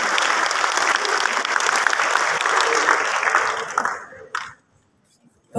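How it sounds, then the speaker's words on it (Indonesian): Lively applause from the audience at the opening of a church synod assembly, a full dense round of clapping that cuts off abruptly toward the end, leaving near silence. "mari sekali lagi kita berikan tepuk tangan yang meriah"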